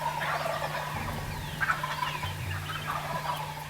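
Wild turkeys gobbling from the roost in the early morning, several rattling gobbles at moderate distance over a steady low hum, with no voices.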